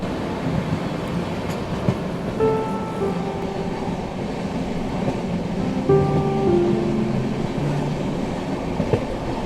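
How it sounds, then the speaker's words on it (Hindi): Steady, loud rumble of the Special Rajdhani Express from Patna to New Delhi running alongside a goods train, a dense continuous roar with faint rail clatter and brief tonal squeals heard from on board. "काफ़ी देर तक साथ में चलने के बाद गुड्स ट्रेन को हम पीछे छोड़ देते हैं"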